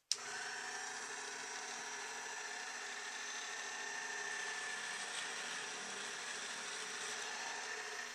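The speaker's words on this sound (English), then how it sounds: "next up we're going to drill just the pilot holes for these." An electric drill boring pilot holes for tuning pegs in a cigar box guitar, a steady, close whirring hum that runs unbroken after a short click at the start, with no one talking.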